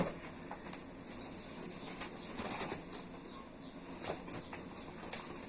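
A pigeon with pointed wingtip feathers is released by hand and flaps away, its wingbeats rustling in quick bursts, with faint outdoor chirps in the background.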